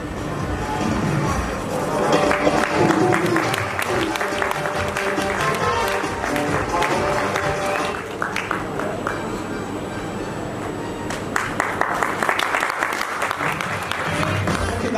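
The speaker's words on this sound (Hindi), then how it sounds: "ताली बजा रहे हैं।" An audience at a Hindi stand-up comedy show claps and applauds in a sustained, dense burst, with brief shifts in intensity partway through and some voices mixed in.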